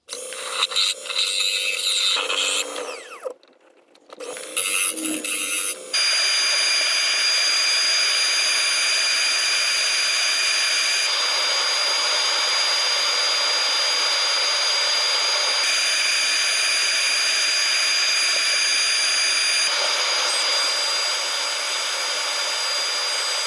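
A steady whirring lathe drones with a high whine while a scraper cuts a spinning ash bowl, after a few choppier cuts at the start.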